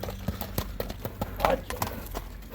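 A horse's hooves clip-clop in a steady, fairly close walking rhythm, with someone talking over them throughout.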